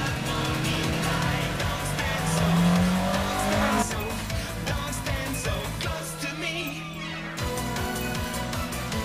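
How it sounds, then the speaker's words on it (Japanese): Honda Civic EG6 with a naturally aspirated B16A DOHC engine revving hard toward redline during a mountain road race, loud sustained engine roar with tire squeal and shifting pitch, layered under music and other racing car noise. "NA の 10-6DOHC なら世界中探しても B16A に勝てるエンジンはない。 レッドゾーンまで一気に吹けるこの音"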